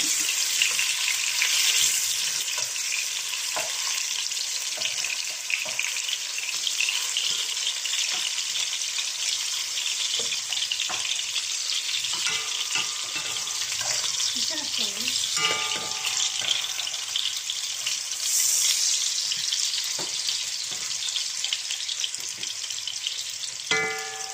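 Potatoes fry in a pan of hot oil for an Arabic-style chicken and rice dish, giving a loud, steady sizzle and crackle that runs unbroken throughout, with occasional stirring scrapes and clicks.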